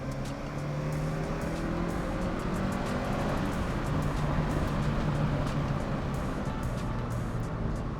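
Honda hot hatch accelerating hard, its engine droning loud and steady from inside the car with road noise beneath, no talking.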